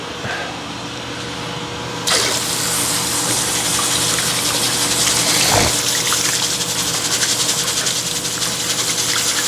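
Rice being rinsed under a running tap: a loud, steady gush of water that swells sharply after about two seconds and keeps pouring with a slight churning, close by and with no talk over it.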